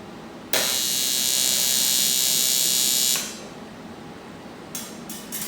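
Tack welding without filler on 3.5-inch turbo intercooler piping for an Integra: a loud steady electric buzz for about two and a half seconds, then a quieter hum with a few short crackling bursts.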